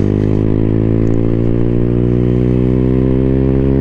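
Freedom Fighter 200 EFI motorcycle (2024) pulling away in first gear, a loud, close, steady engine drone rising slightly as it accelerates, with no talk over it.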